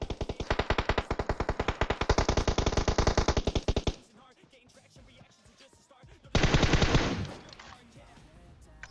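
Rapid automatic gunfire in PUBG crackles in a long dense burst for four seconds, falls to a lull, then returns in a shorter loud volley; a distant Kar98 rifle is part of the firefight.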